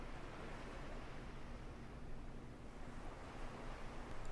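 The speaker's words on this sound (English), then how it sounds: "And look, the ocean even comes in here a little bit." Ocean waves wash into a sea cave in a steady, soft, broad hiss and low rumble, faint and continuous with no distinct breaks and no talking.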